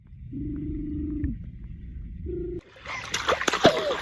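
Someone swimming in a pool: a humming voice comes first, then a burst of close splashing and sloshing water in the last second and a half.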